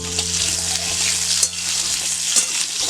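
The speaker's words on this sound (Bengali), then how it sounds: "শুধু নুন দিয়েই ভেজে নেবো আলু।" New-season Chandramukhi potatoes frying in a pan with only salt, giving a continuous loud sizzle with a few soft scrapes of a spatula.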